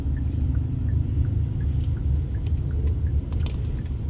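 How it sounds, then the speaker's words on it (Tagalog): Steady low rumble of road traffic in Vietnam, cars passing continuously at moderate distance with faint clicks and higher sounds scattered on top. "Traffic is existing also."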